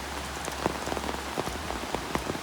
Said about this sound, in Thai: โอ้หนักเลยฝนแบบนี้